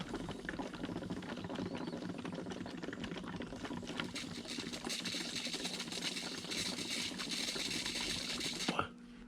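An air compressor line regulated at 80 psi bubbles air into a tint tank solution, giving a steady, loud, broadband bubbling and hissing churn that runs unbroken for about nine seconds before a brief clunk and sudden drop near the end.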